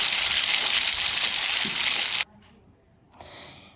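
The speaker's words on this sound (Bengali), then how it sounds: "পটলগুলো এবার ভেজে নেবো" Loud, dense sizzling of pointed gourd slices frying in hot oil for about two seconds, then it cuts off abruptly, followed by a brief faint hiss.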